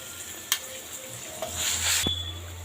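Curry leaf chutney being stirred in a hot pan, with a soft sizzle and a few scraping spoon strokes, including one sharp clink, close and alone for a couple of seconds.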